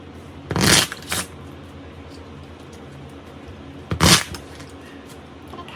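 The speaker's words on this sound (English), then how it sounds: "It's in there, and I'm gonna keep shuffling." A deck of slippery playing cards is riffle-shuffled in two short, crisp bursts of flicking cards several seconds apart, close and fairly loud against a quiet room.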